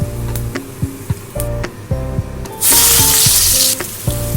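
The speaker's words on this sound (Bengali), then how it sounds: "কড়াইতে 2 চামচের মতো সর্ষের তেল দিয়ে দিলাম। দিয়ে দিলাম সামান্য কালো জিরে।" Nigella seeds sizzle in about two spoons of mustard oil in a wok, a close, steady hiss that swells into a loud burst of spitting crackle midway, with a few clinks from the pan around it.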